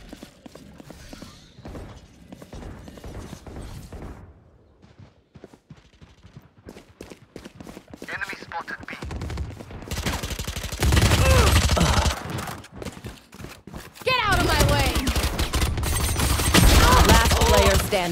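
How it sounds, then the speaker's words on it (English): Gunfire and explosive bursts from a Valorant match as a swarm grenade is deployed, loud dense rattling and popping that swells in the second half, with a synthetic game voice speaking earlier. "Placing swarm grenade."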